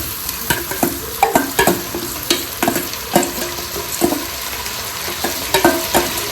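Rice goes into a pot for veg pulao and gets stirred, with repeated scraping and clattering strokes over a soft, steady sizzle, close and alone with no talk.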